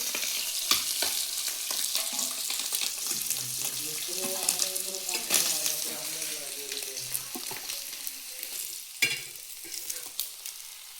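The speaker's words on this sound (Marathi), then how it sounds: "तर असे सगळे भाजून घेते" Pieces of large khadshi fish frying in a pan for fish fry, a steady sizzle with occasional stirring clinks and scrapes, a voice briefly murmuring in the background.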